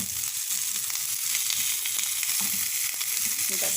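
Tandoori mutton chops sizzle in butter in a pan, a close, steady frying hiss with scattered small crackles and light pops throughout.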